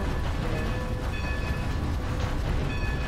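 A hijacked train in the Red Dead Online video game, a steady rolling rumble and rail clatter with faint whistle-like tones, continuous and fairly loud without talk.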